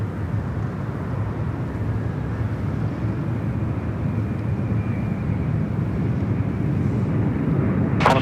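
A Cebu Pacific airliner taking off at Sydney Airport, a broad continuous jet roar that slowly swells in loudness, heard from outdoors at a distance, with a brief sharp noise at the very end.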